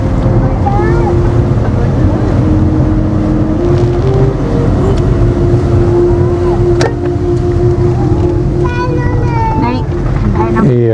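A car climbs a cloud-covered mountain road near Zuluk on the Silk Route, with a steady engine drone and heavy wind rumble filling the sound throughout, plus faint chirps and a brief sharp click.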